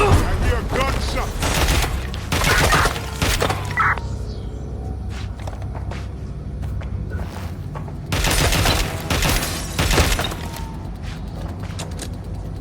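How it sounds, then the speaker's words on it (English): Loud bursts of rapid gunfire crackle in the video game Watch Dogs Legion, with one dense volley at the start, a quieter stretch, and a second heavy exchange later. "I hear a gunshot."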